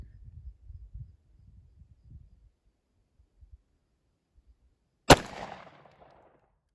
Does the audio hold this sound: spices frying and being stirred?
no